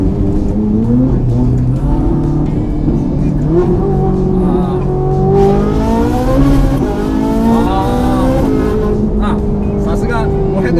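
Ferrari 458 with an aftermarket exhaust revving hard and accelerating, its loud high-pitched engine note climbing and shifting through gears for about eleven seconds while people talk over it inside the car.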